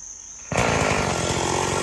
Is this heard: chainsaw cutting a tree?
yes